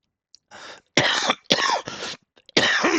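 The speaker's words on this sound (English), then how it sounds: "Sorry, I got a cough." A man coughs several times in quick succession: harsh, close, loud bursts separated by short gaps, with a throat-clearing quality and no talking.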